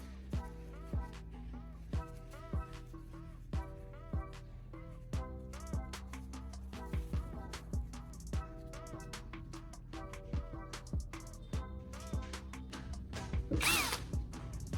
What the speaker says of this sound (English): I'm inserting the carbon rod into my drill